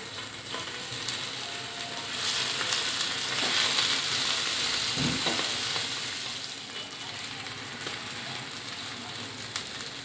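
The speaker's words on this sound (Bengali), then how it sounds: "এখন আমি মাছটা ভেজে নেব।" Hilsa fish tail sizzles in hot oil in a pan, a dense continuous hiss that swells in the middle and then eases, with a few faint clinks and no talking.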